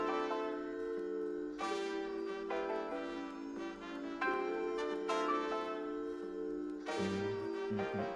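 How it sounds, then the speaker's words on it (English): Hip hop beat built from layered samples with vinyl crackle, a soft, mellow looped melody of sustained, bell-like tones over a quiet backing, with no voices. "with all the samples together, including the vinyl, it sounds like this"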